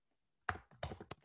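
A computer keyboard is typed on with a few quick, close key clicks in a short burst after a moment of near silence.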